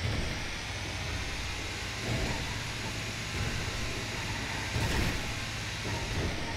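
A train rolls along in Grand Theft Auto V, a loud, continuous rumbling and hissing wash with faint rhythmic clatter, heard alone without talk.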